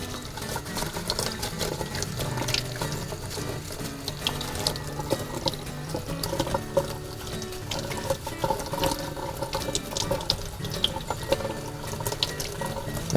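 Tap water runs steadily over turkey gizzard stones and debris held in a kitchen strainer, a constant moderate splashing rush with no talk.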